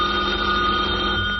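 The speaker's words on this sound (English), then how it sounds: "as the phone rings" An old-style telephone bell ringing steadily in the morning inside a home, a continuous sustained ring at close range with no voices over it.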